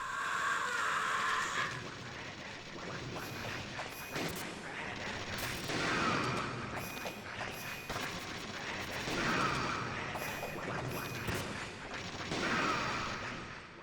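Repeated gunshots and impacts from the PlayStation game Metal Gear Solid, a steady run of loud sharp bursts with crashing hits spread across the whole stretch and no talk over it.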